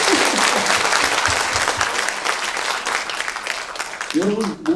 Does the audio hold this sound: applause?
yes